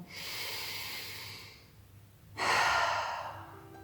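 Deep cleansing breath at the end of a yoga class: a long soft inhale through the nose, a short pause, then a fuller, louder exhale through the mouth, close and unaccompanied by talk.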